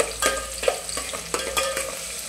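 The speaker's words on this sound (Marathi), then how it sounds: "आपला कांदा फ्राय होतोय" Finely chopped onion frying in a pan, with a steady sizzle broken by repeated scraping stirs of a spatula in an uneven rhythm, close and fairly loud, with no voices.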